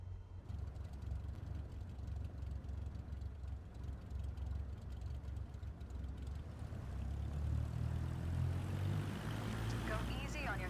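Light aircraft engine in Microsoft Flight Simulator 2024 holding a steady low drone, then swelling louder and rougher as throttle is increased for taxiing, with a rising tone near the end; a person talks throughout.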